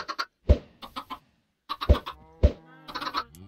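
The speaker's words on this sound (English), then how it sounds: "Chickens!" Minecraft chickens cluck in short repeated game-sound bursts, clean and close, in several separated clusters with silent gaps between them.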